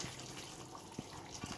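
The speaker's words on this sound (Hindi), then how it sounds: "मैं इसमें आधा गिलास पानी मिलाऊंगा" Hot water pours into a pot of chicken biryani, a soft, steady trickling splash with a few small plops, faint and close.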